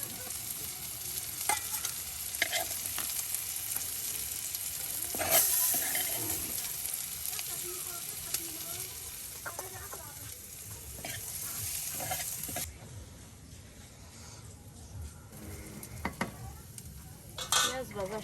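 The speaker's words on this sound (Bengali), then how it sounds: "পেঁয়াজ ভাজা শেষ" Onions frying in a pan at a traditional village kitchen, crackling and sizzling steadily while a utensil stirs and scrapes against the metal in irregular clinks, close and continuous with brief sharp knocks.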